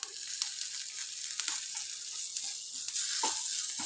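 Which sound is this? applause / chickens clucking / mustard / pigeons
mustard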